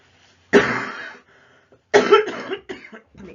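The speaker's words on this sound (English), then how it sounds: "Sorry about the coughing." Coughing during a lecture on improper integrals: two loud, rough bursts of coughs about a second apart, then a shorter cough, close to the microphone with no talk between them.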